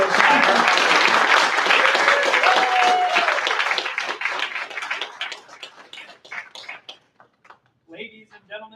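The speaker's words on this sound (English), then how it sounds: "Let's give one more warm round of applause to the class of 22013, the Air Force's newest hire." Crowd at an Air Force graduation ceremony applauding the graduating class: full, sustained clapping that gradually thins to scattered claps over several seconds, with talk coming in at the end.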